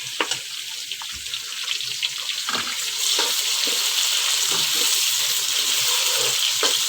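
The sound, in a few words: onions added to frying garlic and ginger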